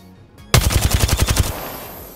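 An automatic weapon fires from the hip in the video game Apex Legends, a rapid burst of about ten loud, close shots in quick succession that then ring out and fade.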